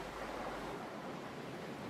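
Sea waves in the video game Salt, a soft steady wash of surf and water noise with a faint wind-like hiss, continuous and low in level with no talking.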